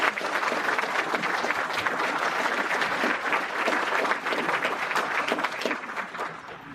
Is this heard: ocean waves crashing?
no